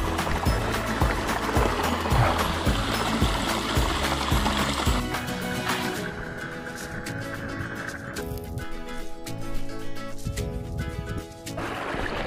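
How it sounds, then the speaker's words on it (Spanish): Steady rushing water from a small stream flows throughout, with a shift in texture midway and no voices. "escuchar el arrullo del agua a tu alrededor"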